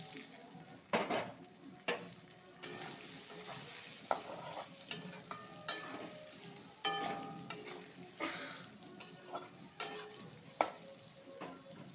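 Sour mango pieces for pickle, seasoned with turmeric and salt, are stirred in a frying pan: repeated rhythmic scrapes and clinks of a utensil against the pan over a soft sizzle, close, no speech.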